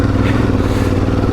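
A rally motorcycle engine accelerates during the Hellas Rally, a loud, dense, continuous roar that rises steadily and stays close and strong across the whole brief moment.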